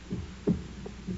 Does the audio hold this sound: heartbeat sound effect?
yes